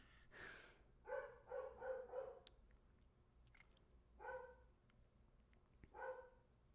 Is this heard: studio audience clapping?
no